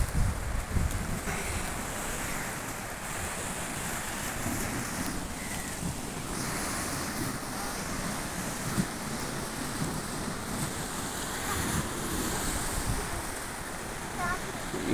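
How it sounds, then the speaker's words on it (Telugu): Waves on the swollen, flooding Krishna River wash steadily against riverside temple steps, a continuous churning rush mixed with wind noise on the microphone. "అలల తాకి చాలా ఎక్కువగా ఉన్నది"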